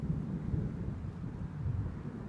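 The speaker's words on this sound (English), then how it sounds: "Man, these are some big thunderstorms." Low, faint rumbling thunder from a big thunderstorm, a steady distant roll with no voices.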